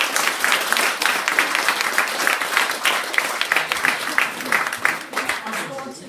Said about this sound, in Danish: Jeg synes, vi skal klappe af dem.